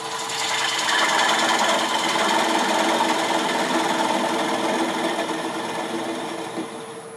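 A wood lathe turns a Bradford pear bowl with a tool cutting the underside, giving a steady, close mechanical whir with a rough scraping texture that eases off slightly near the end, and no talking.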